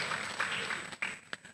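A church congregation claps together during a worship service, a steady wash of applause with a few sharper claps standing out near the end, and faint voices underneath.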